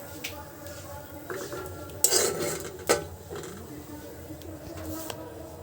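A spoon stirs and mashes onion and potato with fish for Bengali fish bhorta in a pan, with scraping and clinking strokes, a few louder knocks in the middle, and soft background noise.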